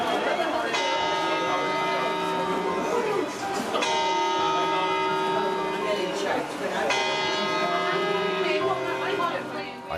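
A clock chimes midnight on New Year's Eve in Torremolinos, ringing three loud, resonant bell strokes about three seconds apart, each left to decay into the next.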